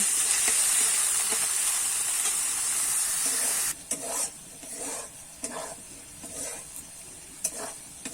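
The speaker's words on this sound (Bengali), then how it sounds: "আমি একটু লাল লাল করে ভেজে নেব" Potatoes fry in hot oil in a kadai, first as a loud, constant sizzle, then broken up by several scraping stirs of a spatula as the hiss drops back, with no voices.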